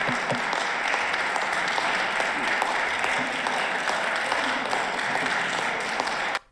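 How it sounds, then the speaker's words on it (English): Sustained, dense applause from a legislative gathering in Rhode Island carries on evenly for several seconds, with faint voices mixed in beneath it, then cuts off abruptly. "the lukewarm round of applause that followed it"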